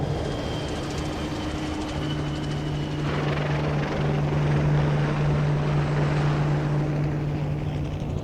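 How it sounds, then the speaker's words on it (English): A helicopter's deep, throbbing rotor drone hangs overhead, loud and continuous, with a steady low engine hum layered over a broad rushing roar. "The sky is full of planes and helicopters."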